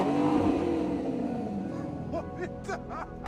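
A sports car engine revving and pulling away, a loud rising throaty growl followed by quick sharp revs near the end.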